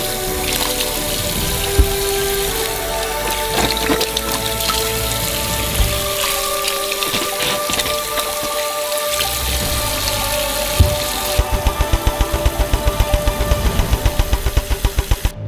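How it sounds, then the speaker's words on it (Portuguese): Oranges are washed in a sink filled with water, making continuous close splashing and sloshing that turns into rhythmic repeated splashes near the end. "Enchemos elas com água e lavamos todas as laranjas."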